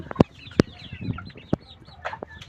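Large coloured chickens on a poultry farm cluck close by in short, sharp bursts, several birds calling irregularly over a soft background of shuffling and murmuring poultry.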